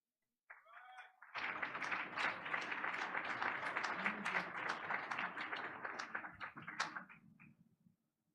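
Sustained applause from an audience at a school board meeting honoring award recipient Mr. Wallace Allen, a dense steady clapping that rises after a brief lead-in and holds for several seconds before tapering off.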